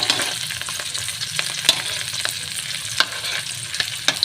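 Dried salted fish (tuyo) frying in a pan, with a steady bright sizzle and occasional sharp pops and stirring scrapes, close and fairly loud.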